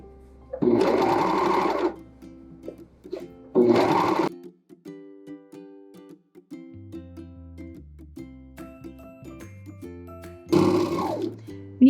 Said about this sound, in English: let's serge all the way around the armhole